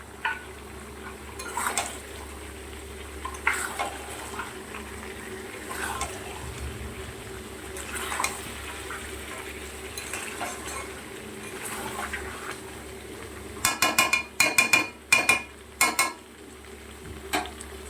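Chicken and potatoes sautéing in a pan, a soft steady sizzle with periodic spoon-against-pan scrapes and a quick cluster of clattering knocks near the end.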